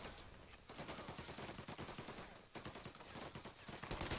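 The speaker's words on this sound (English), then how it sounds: "Who's shooting me?" Enemy gunfire in the Mafia video game rattles on as dense, continuous volleys of overlapping shots with brief lulls, moderately distant and steady, with no talk over it.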